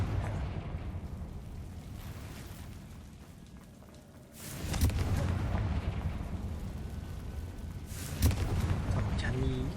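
A Confringo spell goes off in Hogwarts Legacy, a fiery rumbling burst that swells midway and flares again near the end over game ambience and background murmur.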